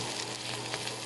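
Longaniza sausage fries in a pan with a loud, steady, close-up sizzle and crackle and no talking.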